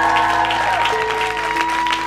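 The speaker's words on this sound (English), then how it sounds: "give them a round of applause" Steady applause from a crowd at the dedication ceremony of the Pamela and Craig Goldman Creative Arts Pavilion at Camp Simcha, loud and continuous throughout with no pauses.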